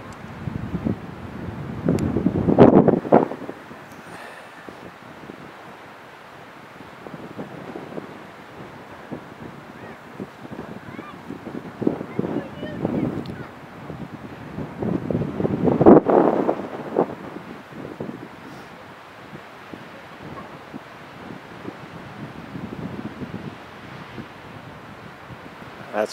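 Wind buffeting a microphone on a hillside at Chehalem Mountain: low rushing gusts that swell and fade over nearly half a minute, loudest in a few strong surges, with no speech.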